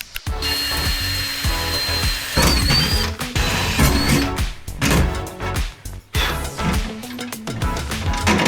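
Holes are drilled to mount a detachable luggage-case system on a 35-year-old BMW motorcycle. The work sounds like loud, uneven bursts of mechanical whirring, clattering and ratcheting, starting and stopping several times.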